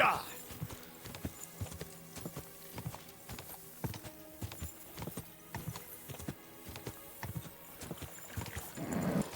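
Horse hooves clip-clop steadily in the Kingdom Come: Deliverance 2 video game, a fast regular gallop rhythm close and clear, with a voice shouting briefly near the end.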